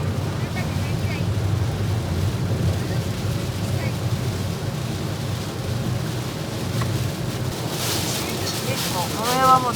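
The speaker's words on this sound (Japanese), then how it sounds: "外出れるような雨風じゃないもんね" Heavy typhoon rain and wind buffeting a parked car, heard from inside as a constant dense roar with rumbling gusts, and a voice briefly near the end.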